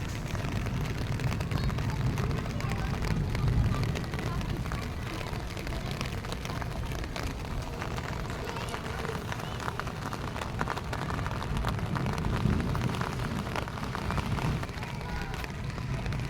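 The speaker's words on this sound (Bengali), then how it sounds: "এখন কিন্তু বেশ বৃষ্টি হচ্ছে।" Heavy rain pours steadily in Noida, a dense unbroken hiss of falling water that stays loud and even throughout, with no talk heard.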